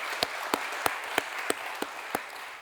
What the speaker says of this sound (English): I think we should all give ourselves an applause for that achievement.